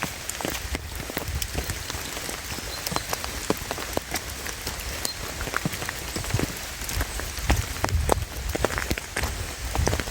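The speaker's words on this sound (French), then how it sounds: "avec la pluie qui tombe." Rain falling steadily in a forest, a dense even patter of drops on leaves and surfaces with scattered sharper close drips, continuous and fairly quiet with no talk.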